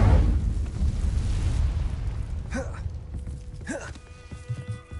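The Incendio fire spell in a video game, a loud whooshing burst of flame that rumbles and fades, followed by a few sharp swishing effects and faint tonal chimes.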